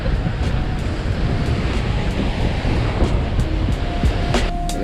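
Strong wind roars steadily across the microphone on a Big Island, Hawaii shore during drone fishing, a dense, loud rush mixed with surf and a few faint clicks, with no talking.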